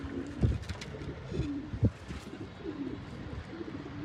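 Pigeons cooing nearby: soft, low, throaty coos arriving in a few rounded bursts over quiet background noise, with no one speaking.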